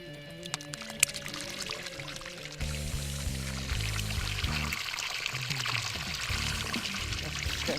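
Liquid poured onto bread in a bear-bait barrel, starting quiet and uneven with a few small knocks, then a steady, rushing pour for the last five seconds, close and alone.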